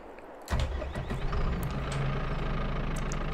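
A front wheel loader's engine starts abruptly and settles into a steady, close diesel rumble, running loud and continuous with a few clanks on a farm.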